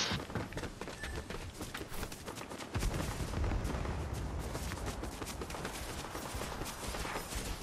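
Gunfire in Fortnite, a burst of sharp shots with rapid repeated cracks and busy footstep-like clatter, moderately loud and continuous over several seconds.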